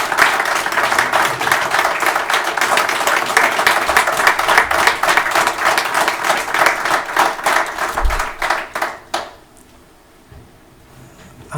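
An audience at a village board meeting applauds warmly with dense, steady clapping for about nine seconds before it thins out and stops, leaving a quiet room.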